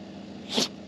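A single short sneeze bursts out near the microphone against a steady low background hum, brief and alone with no talk.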